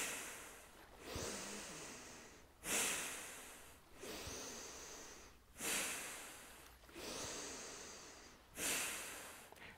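Rhythmic breaths during a guided arm-raising breathing exercise, each long airy exhale swelling and fading in a steady cycle, about four breaths close and soft with no talk.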